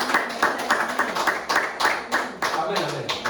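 A church congregation claps in quick, rhythmic unison to acclaim the Lord, with voices ringing out over the steady beat of the claps.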